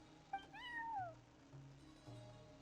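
A cat meows in a video game, one clear rising-and-falling meow with a brief chirp before it, quiet over a steady low background hum, no talk.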